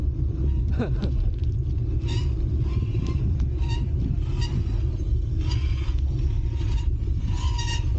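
Metal grinds and scrapes on a bicycle with failing brakes rolling down a forest downhill trail, a continuous rumbling rattle with repeated brief screeching scrapes throughout.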